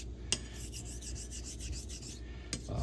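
Straight razor, a JA Henckels blade, being honed with slurry on a convex coticule stone to cut a back bevel, giving a steady close rasping rub stroke after stroke, with two sharp clicks in between.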